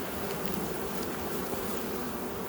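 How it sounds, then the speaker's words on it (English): Honeybees hum in a dense, steady drone around an open beehive box on its warm, sunny side, close and continuous with no voices. "Seeing a lot of bees right here."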